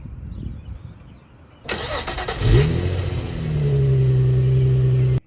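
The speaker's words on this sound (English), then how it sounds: "here's a startup on the 350z." A 2004 Nissan 350Z with a 3.5-liter V6 cranks and fires after a quiet lead-in, blips briefly, then settles into a steady, loud idle up close.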